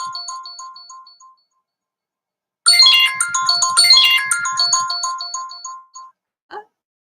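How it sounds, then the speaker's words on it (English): A phone ringtone goes off during a live stream, a melodic electronic tone pattern that plays briefly, pauses, then returns louder and busier for a few seconds before ending in short chirps, with no talk over it. "Why is there a phone call coming in?"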